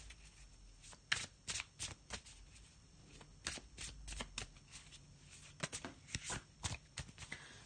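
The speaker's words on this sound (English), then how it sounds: "I'm just going to have a little shuffle of the Faulkner deck as usual." A tarot card deck is shuffled by hand at close range, giving a string of soft riffling flutters and quick papery taps in irregular bursts, fairly quiet and with no talking.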